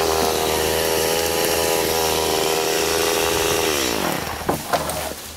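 A chainsaw cuts maple logs outdoors. Its engine whines loud and steady at high revs, then drops and sputters toward idle near the end, with a couple of short knocks.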